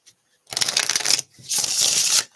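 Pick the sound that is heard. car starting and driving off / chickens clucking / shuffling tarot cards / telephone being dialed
shuffling tarot cards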